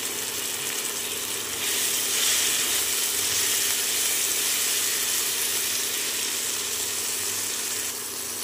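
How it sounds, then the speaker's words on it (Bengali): Spices sizzle steadily in hot oil in a pan for an egg tarka, a dense, continuous hiss that swells slightly after the first moments and holds loud and close throughout, with no voices. "সমস্ত মশলাগুলোকে ভাজা করে নিয়েছি।"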